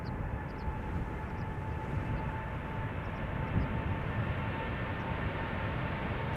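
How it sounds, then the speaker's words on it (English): A KLM Boeing 787-9 Dreamliner departing Schiphol for Bogota sends out a steady, sustained engine roar with a faint whine on top, moderately distant and unbroken, with no voices present. "KLM Flight 741. It's a 7879 Dreamliner."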